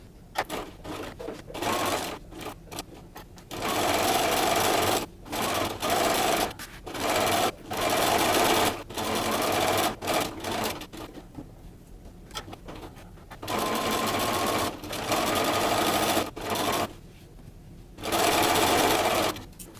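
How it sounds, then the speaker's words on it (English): A sewing machine stitches around the edge of a fabric heart pillow, running in repeated bursts of a few seconds each, close and steady, with short pauses between runs. "Now we are going to sew around the outside of the heart"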